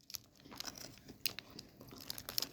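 Someone bites into a crunchy Feastables milk crunch chocolate bar, giving a few sharp crunches and crackles close up against a quiet background.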